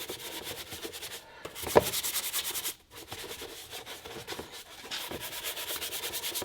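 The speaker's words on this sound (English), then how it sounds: "Going to take the brush, agitate it." A brush scrubs cleaner into oxidized trim on a Mitsubishi Evo, a close, soft back-and-forth rubbing in steady strokes with brief pauses.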